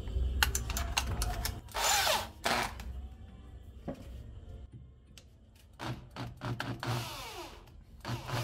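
A power drill fitted with a freshly sharpened bit whines and bites into a piece of metal tubing in several short bursts, close and loud, with grinding scrapes between pauses and no talking.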